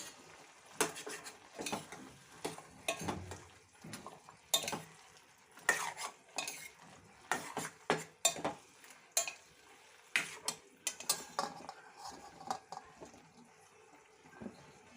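Capsicum stirred into a prawn masala curry in a pan, a spoon scraping and clacking in repeated strokes with a soft sizzle underneath, close and fairly loud.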